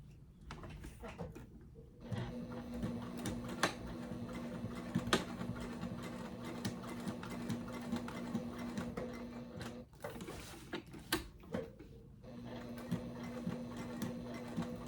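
A sewing machine stitches along the edge of a strap, humming in steady runs with a brief stop in between, close by, with a few clicks and light handling noises.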